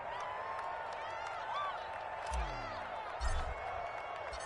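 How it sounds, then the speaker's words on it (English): Crowd applause and cheering in a PS4 football video game fill the background as a steady wash, swelling briefly twice, under a low rumbling layer of game sound. "How about some applause for the defense there?"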